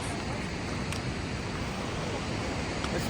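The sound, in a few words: mountain stream of snowmelt water flowing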